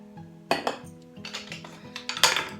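Butter, sugar and beaten egg are stirred together in a mixing bowl for oatmeal cookie dough, with a utensil scraping and clinking against the bowl in irregular bursts, close and fairly quiet.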